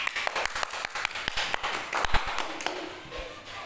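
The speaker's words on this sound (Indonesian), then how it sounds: "Tepuk tangan untuk kita semua." A group of people in a teachers' training session claps together, quick uneven hand claps close by that thin out toward the end, with a little talk underneath.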